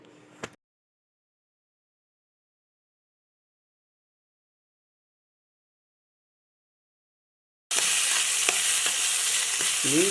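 Chicken gravy ingredients with green chili, ginger, garlic and curry leaf sizzle and get stirred in a cooking pan, coming in abruptly near the end after a long silence, loud and close with scraping strokes.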